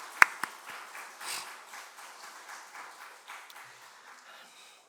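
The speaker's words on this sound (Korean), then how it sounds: "우리 박수 한번 보내드릴까요?" Church congregation at a Sunday service clapping in welcome, a couple of sharp near claps opening into a softer scattered round of applause that fades out over a few seconds.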